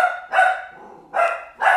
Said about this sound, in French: hein, le chien?